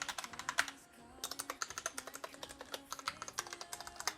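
Rapid typing on a Gamdias E2 TKL budget mechanical keyboard, showing its stabilizers: dense, close clacking keystrokes with a brief pause near one second, then steady typing resumes.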